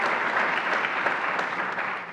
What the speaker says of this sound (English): And yeah, you can clap for that.